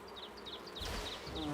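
Bees buzz in a video game level, a steady swarm of short whining tones repeating throughout, with a louder rumble joining partway through.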